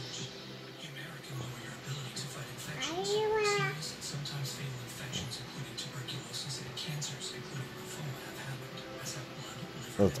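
A pet cat being gently stroked lets out one clear, rising meow around the third second, close and moderately loud, while people speak softly around it in a quiet room.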